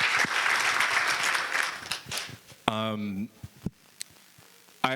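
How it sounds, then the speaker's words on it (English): An audience at a real estate investor event claps together for a couple of seconds, then the applause fades into scattered claps, and a voice speaks briefly in between. "Can we clap for him for being 19 and being in this room?"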